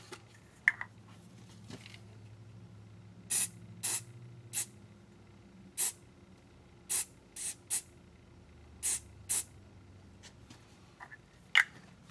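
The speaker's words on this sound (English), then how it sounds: "even when I shoot this activator on it" Activator sprayed in short spritzes onto a handmade shaving brush handle: roughly ten quick, soft hissing puffs spaced irregularly over a quiet, low background hum.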